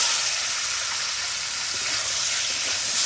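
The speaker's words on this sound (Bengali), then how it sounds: "এখন আমরা চিকেনটা ভেজে নেব ওই আলু ভাজার তেলের মধ্যে।" Marinated chicken, rubbed with salt and turmeric, frying in oil left over from frying potatoes, producing a loud, dense, continuous sizzle close by with no voices.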